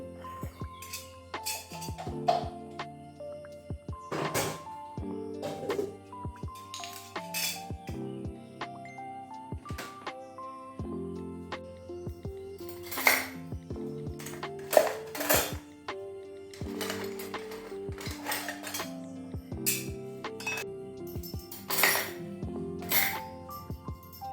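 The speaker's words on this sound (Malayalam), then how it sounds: "ഇന്നലെ കഴുകി വെച്ചിട്ടുണ്ടായിരുന്ന പാത്രങ്ങളൊക്കെ ഒന്ന് എടുത്ത് വെക്കുകയാണ്" Dishes clink and clatter as they are handled and set down one by one, with intermittent ringing metallic and ceramic knocks in a quiet room.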